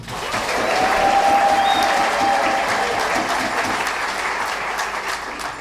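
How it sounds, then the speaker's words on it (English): A crowd claps steadily for several seconds at a jazz concert at the Bexley Public Library, a full, sustained round of applause that swells early and slowly tapers off. "let's start out with a round of applause for the Bexley Public Library"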